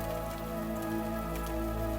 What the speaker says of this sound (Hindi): हाथ में छड़ी लेकर बारिश को भगा दूं